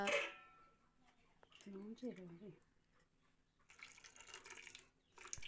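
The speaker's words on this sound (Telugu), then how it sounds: "ఇలా వాటర్ పోసుకున్న తర్వాత" Water is poured into a cooking pot for a small fish and mango curry, heard as a steady rushing splash in the second half, with a voice talking briefly just before it.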